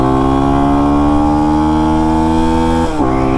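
A Lifan X-Pect enduro motorcycle's engine runs at full throttle, a loud, steady high-revving drone with harmonics climbing slowly before a brief dip near the end, with no talking.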